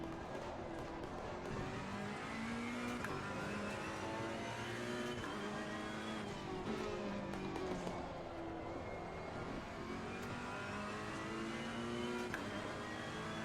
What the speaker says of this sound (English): This Ferrari sounds amazing.